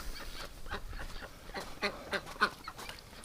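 An old 2014 crossbreed duck sitting in a tub in a winter barn hospital setup lets out a few short, raspy quacks close by, spaced apart over faint background noise.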